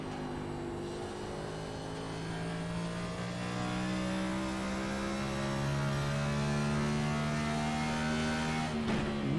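A Next Gen NASCAR stock car engine in iRacing at New Hampshire revs high and steady, a loud sustained drone that climbs slightly in pitch, alone with no voices.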